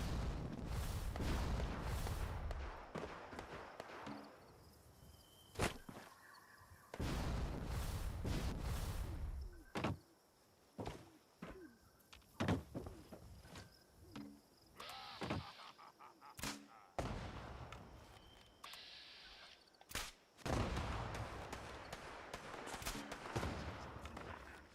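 Gunfire from a firefight in the post-apocalyptic Appalachia wasteland of Fallout 76: repeated sharp shots and bursts, some loud and close, others quieter and distant, spread unevenly across a noisy battle backdrop.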